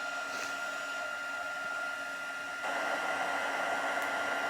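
A heat embossing gun whirs continuously, growing slightly louder partway through, close by with no talking.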